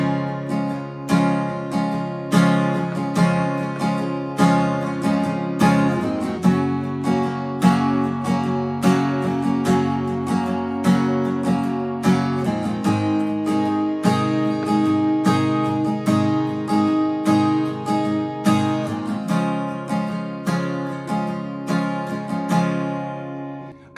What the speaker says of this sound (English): And the solo is going to sound like this.